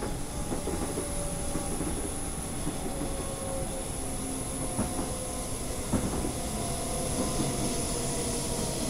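Train running on rails in Train Simulator 2013 during an emergency stop, a steady broad rumble with faint clicks and a brief squeal near the middle, continuous and close throughout.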